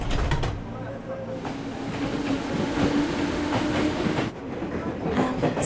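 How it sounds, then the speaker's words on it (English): A train rumbling past in a video game, steady rolling clatter with rhythmic clicks and a brief dip partway, fairly loud and close, with a voice speaking over it. "This is my train."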